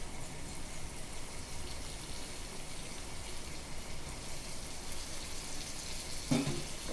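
Tomato and vegetables frying in a pan for vegetable pulao, giving a steady loud sizzle that runs without a break, with a brief clink near the end.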